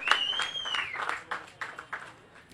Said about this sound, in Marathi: मित्रांनो, समीरच्या बॉलिंगसाठी आणि शेवटच्या बॉलसाठी जर एकदा जोरदार टाळ्या होऊन जाऊ द्या.